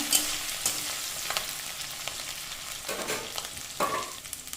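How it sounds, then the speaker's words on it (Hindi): Grated ginger and chopped green chilli frying in a pan, a steady close sizzle with faint stirring scrapes and small spatters throughout. "अब इसमें मैं ग्रेट किया हुआ अदरक और मिर्चाई, चॉप किया हुआ मिर्चाई डाल दूँगी। अब इसे हमें हल्का सा भूनना है।"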